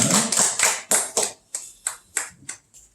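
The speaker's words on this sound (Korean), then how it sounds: "모든 영광을 하나님께 박수 올리겠습니다" Church congregation clapping during a Sunday worship service, a run of distinct claps that start dense and loud, then thin out into a few scattered, fading claps before stopping.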